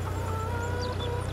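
Chickens in small pens in the farming video game Farming Simulator 22 cluck in soft, overlapping chatter over a steady low background hum, close and continuous with no talk.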